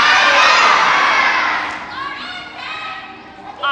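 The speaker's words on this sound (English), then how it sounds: "will you yell out your favorite part of today?" A crowd of children at a Vacation Bible School closing worship yells out all at once, a loud, dense burst of shouting that fades into scattered excited voices and a final brief swell.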